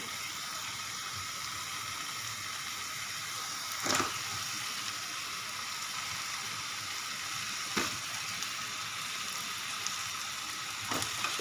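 Potatoes frying in a pan make a quiet, continuous sizzle, with a few sharp stirring scrapes now and then.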